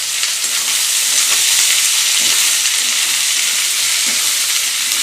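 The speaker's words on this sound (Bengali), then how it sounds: "পেঁয়াজটা দিয়ে দেবো কড়া, কমে যাবে তো পেঁয়াজটা, পেঁয়াজ খুব কমে যাবে।" Onions sizzle and fry in a pan of hot oil for a potato curry, a loud, continuous hiss with faint crackles, close up and without talking.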